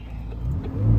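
McLaren 570S sports car launching from a standstill, its engine note rising in a short, building surge of revs over about a second, close and fairly loud with no speech.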